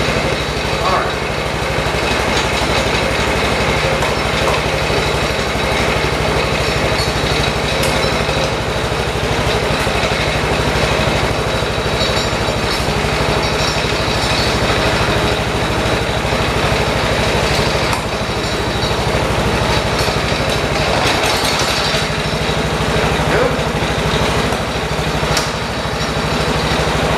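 A John Deere 216 lawn tractor engine, which has a bad variator, runs steadily and close for the whole stretch, a continuous mid-pitched drone with no pauses and a brief dip near the end.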